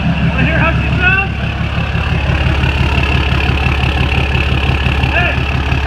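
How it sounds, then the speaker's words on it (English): A Cummins 6.7 diesel pickup engine, emissions deleted, idles steadily with a deep, continuous low rumble throughout, while a person talks over it. "Want to hear how she sounds?"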